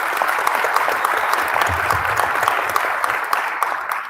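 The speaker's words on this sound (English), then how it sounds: "So if we could just give them a big round of applause." A school board meeting audience claps for the girls basketball county champions, a steady, crisp burst of applause from a moderate-sized crowd in a hall that tapers toward the end.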